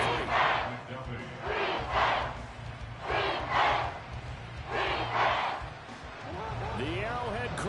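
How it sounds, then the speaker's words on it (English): Stadium crowd at Arrowhead roaring in the video game Madden 24, swelling in repeated loud surges with a steady low rumble beneath and chant-like bursts throughout. "The Arrowhead crowd in full roar."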